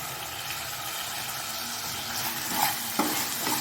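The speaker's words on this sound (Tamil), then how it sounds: "தக்காளி சேர்த்து நல்லா வதக்கி விடுங்க தக்காளி வதங்கட்டும்" Chopped tomatoes sauté in an oiled pan for chicken biryani, giving a steady close sizzle with a few stirring scrapes near the end and no talking.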